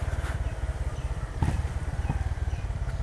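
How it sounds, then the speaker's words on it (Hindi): Motorcycle engine pulsing steadily on a morning ride along a wet, slippery road through Tamhini, loud and close with a regular low throb throughout and a brief bump midway. "and the bike sounds amazing as always"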